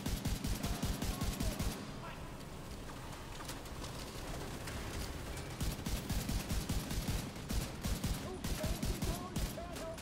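Rapid video game gunfire from a boss fight in a tower, with bursts of automatic shots at the start and end and scattered shots between, loud and dense.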